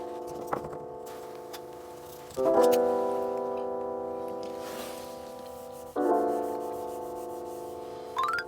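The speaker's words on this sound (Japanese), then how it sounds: "周りのいらないハードワックスをきれいに拭き取り、研磨して面を整えています" Hand sanding of hard wax filler on a white wooden frame during a furniture repair, steady rubbing strokes that come in longer sustained passes with brief pauses between them.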